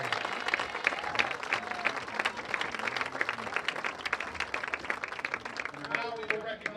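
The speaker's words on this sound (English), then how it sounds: "Let's have a round of applause for our senior football players." A crowd at a high school football game applauds senior football players, steady dense clapping filling the whole stretch with scattered cheers and voices mixed in.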